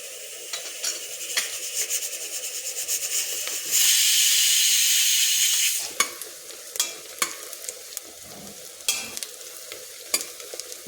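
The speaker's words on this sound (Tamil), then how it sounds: "வெங்காயம் நல்லா பொரிஞ்சிருச்சு எண்ணெயிலேயே." Onions sizzling as they fry in hot oil, a steady hiss with stirring scrapes and clinks throughout and a louder surge of steam partway through; no voices.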